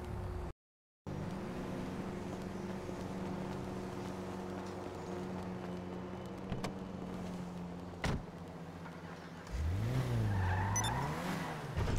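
A car driving in GTA 5 hums along at a steady engine drone, then rises in a late swell of revving and tire squeal, with a couple of brief thuds along the way and no voices.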